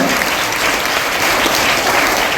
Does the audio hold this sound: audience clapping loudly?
yes